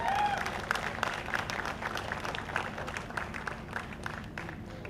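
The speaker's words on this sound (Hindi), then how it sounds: "एक और बार मैं आप सभी से रिक्वेस्ट करूंगा जोरदार तालियां हो जाए।" Audience applause fills a TV show launch event for the series Mahakumb Ek Rahasya, steady dense clapping from a sizable crowd that continues throughout at moderate loudness, with faint voices underneath.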